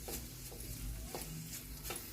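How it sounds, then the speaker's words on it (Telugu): Ginger garlic paste and masala frying gently over a low flame, giving a soft, steady sizzle with faint regular stirring strokes, quiet and close with no talk. "సిమ్లో పెట్టుకుని ఏ మసాలా కూడా మాడకుండా జాగ్రత్తగా వేయించుకోవాలండి."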